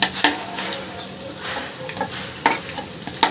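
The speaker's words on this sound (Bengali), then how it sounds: "ওটা দেখুন ভালোভাবে ভাজা হয়ে গেছে এবার আলুগুলোকে আমি তুলে নিচ্ছি" Potato pieces fry in oil for a dhaba-style aloo bhuna, a close, busy sizzle broken by repeated sharp scrapes and clatters of a spatula stirring in the pan.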